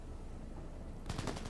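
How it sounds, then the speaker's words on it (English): Gunfire in the video game Cyberpunk 2077, a quick burst of automatic shots near the end after a stretch of steady background noise. "Just gunshots going off all over the place."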